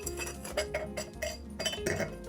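Ice cubes clink into a cocktail glass in several sharp, close, bright knocks spread across a couple of seconds.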